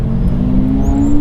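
A V12 Lamborghini Diablo revving as it pulls away in traffic, a loud close engine drone rising steadily in pitch over about a second.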